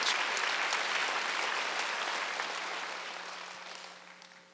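A church congregation at a Wednesday worship service claps together in a dense burst of applause that gradually fades, with no speech over it.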